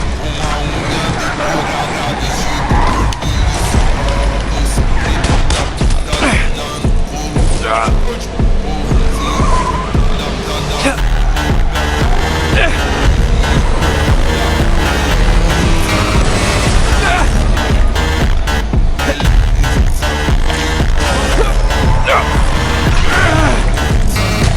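Tires skid and squeal through a truck car chase in the Spider-Man video game, with engines roaring steadily over dense, continuous game noise and a busy crowd babble for the whole stretch.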